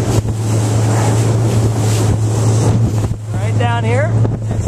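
A Beavertail BT3 boat runs at full throttle across quartering seas, its outboard drone steady and loud beneath wind buffeting and water rush, with a voice briefly speaking near the end.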